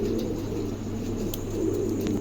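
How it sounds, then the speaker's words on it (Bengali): A pair of Danish pigeons coo softly and repeatedly in low, murmuring tones, close by, against a steady background hum. "চমৎকার এক জোড়া কবুতর"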